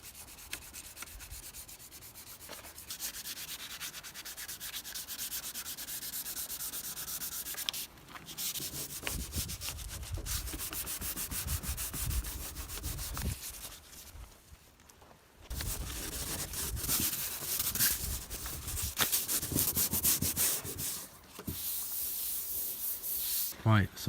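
Wet sanding on a Skoda VRS boot lid during a car rebuild, steady scratchy rubbing strokes repeated close to the microphone, with brief pauses between passes and no talking.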